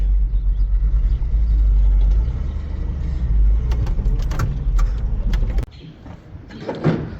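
An old, slightly rusty square-body pickup truck pulls away with its engine running as a heavy low rumble, which drops off suddenly near the end, followed by faint clicks and rustling.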